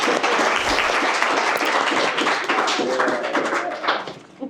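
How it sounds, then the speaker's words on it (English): Audience at a conference panel breaking into sustained applause for the panelists, dense clapping that fades out toward the end. "Can we get a round of applause to our panelists here?"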